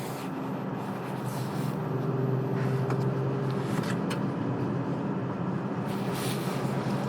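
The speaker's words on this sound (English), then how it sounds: "You can hear that extra engine noise." 2023 Acura TLX Type S engine under throttle, a steady drone building slightly as the car accelerates, heard from inside the cabin with road and wind noise mixed in, with no talking.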